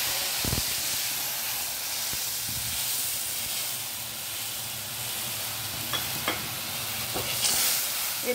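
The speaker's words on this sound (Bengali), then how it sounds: "এবার এই মাছ ভাজার তেলেই আমি কালো জিরের ফোড়ন দিয়ে এই যে মশলাটা বাটিতে রেডি করে রেখেছিলাম, সেই মশলাটা আমি" Black cumin seeds and a paste of ground mustard, salt, turmeric and chilli frying in leftover fish-frying oil, giving a steady close hiss and sizzle with occasional stirring scrapes and a few sharp pops.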